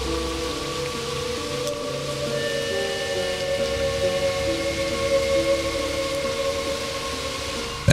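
Steady drizzling rain falls over a village in a cartoon scene, a soft continuous hiss accompanied by sustained tones.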